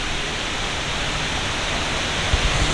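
Water fountains at Jewel Changi Airport in Singapore make a dense, steady rushing and splashing wash that fills the clip evenly and close by, with no voices over it.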